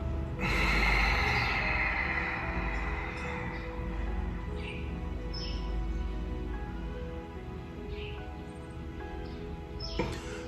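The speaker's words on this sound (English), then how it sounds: "let's breathe in" Slow, deep breaths from a breathing exercise are drawn in and let out close by, long airy inhales and exhales under faint background chirps.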